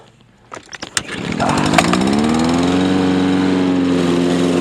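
A lawn mower engine starts with a few uneven sputters, then settles into a steady, loud, continuous drone while mowing grass around a house.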